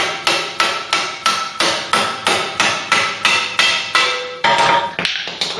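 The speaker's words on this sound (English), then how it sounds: "Don't want to tap this too hard because I'll bend that bolt." Hammer tapping a bolt on a Mk3 Ford Cortina during a classic car restoration, about a dozen close, sharp metallic strikes in a steady even rhythm, each ringing briefly, with no voices.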